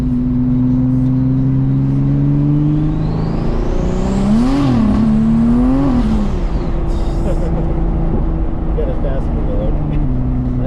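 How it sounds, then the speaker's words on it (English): A turbocharged Oldsmobile Cutlass wagon's engine revs up and falls back twice, rising whine and roar over a steady idle drone, loud and close. "I've got to let this car rev out and see what it can do"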